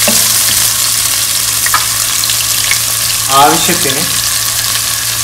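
Chopped onions fry and get stirred in a pan for a green chicken curry, a loud continuous sizzle with occasional scraping stirs and a brief spoken word.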